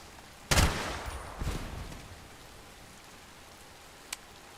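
Weapon fire from a machine gun in the game Bright Memory, a loud burst followed by a second booming report, then a lone faint crack against a steady hiss.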